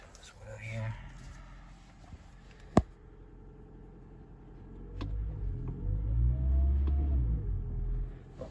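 A 2021 Toyota Prius idles after its smart keys are programmed, a low steady rumble that swells toward the end, with a sharp click early on and quiet talk nearby.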